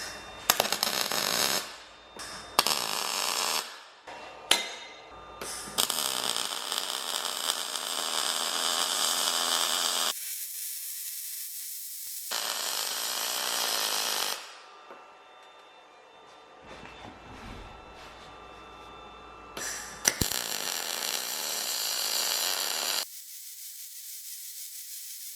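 Pulsed MIG welding on 2mm steel test pieces with an EWM Picomig 22 at out-of-the-box settings; several loud, steady buzzing arc bursts of a few seconds each, separated by short silences, with no talking.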